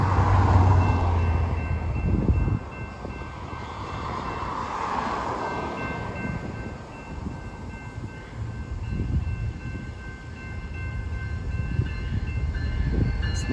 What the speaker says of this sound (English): we got our first train coming. It's a BNSF for once.